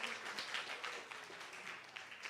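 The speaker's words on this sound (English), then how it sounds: "Give yourselves a round of applause" Audience applause at a conference panel on a digital Caribbean: steady, moderately faint clapping from a crowd, continuous throughout with scattered sharper claps, no talk over it.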